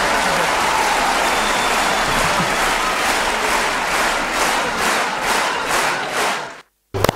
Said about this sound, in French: pendant que je continue d'applaudir